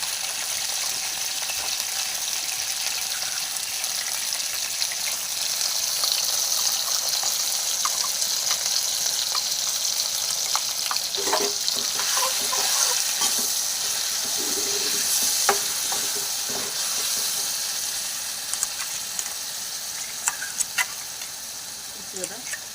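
Brinjal curry being stirred with spices in a frying pan: a steady, loud sizzle of frying throughout, with scraping spoon strokes and clinks growing more frequent toward the end.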